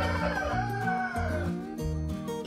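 Olive Egger and Easter Egger hens from a mixed backyard flock clucking and calling close by, steady overlapping bird voices with no talk.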